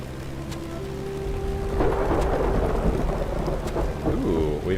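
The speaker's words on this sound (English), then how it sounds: "we've got a nice little thunderstorm going" Thunderstorm in the video game Black Skylands, with a steady hiss of rain on surfaces and a loud roll of thunder building midway.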